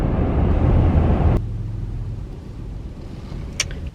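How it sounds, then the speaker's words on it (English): A low, steady van engine idle rumbles close by, loudest at first and then settling into a softer drone with a faint click near the end. "It's so not calming hearing the engine running."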